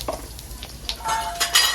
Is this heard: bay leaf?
yes